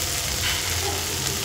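An okra dish frying in a pan makes a continuous close sizzle with faint stirring scrapes mixed in, short and steady with no voices.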